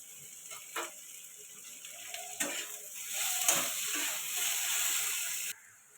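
Beans and bitter gourd frying with onion in a pan give a steady close sizzle, with a few louder stirring clatters. The sizzle builds toward the middle and stops abruptly near the end.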